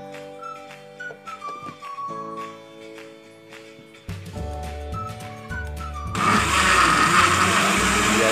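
A kitchen blender grinding ingredients with water whirs loudly near the end, a dense steady roar rising after a stretch of background music.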